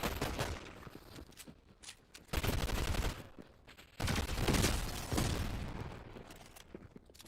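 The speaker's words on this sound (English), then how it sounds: "Fucking Santa, he's shooting me." Bursts of rapid gunfire in a video game come in several loud volleys separated by quieter gaps, with machine-gun-like rattling and booming impacts.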